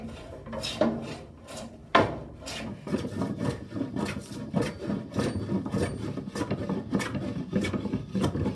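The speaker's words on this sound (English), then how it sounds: "The knee is then planed to the lines" Hand plane shaving a chainsaw-cut wooden knee for a carvel-planked boat's structural floors, giving repeated close rasping strokes with a sharper knock near the start.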